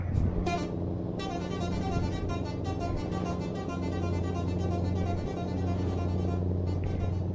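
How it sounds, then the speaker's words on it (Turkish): Air horn of a Scania R560 V8 truck in Euro Truck Simulator: a few quick stabs, then a long, loud, sustained blast over the steady rumble of the engine. "Şu da havalı kornası."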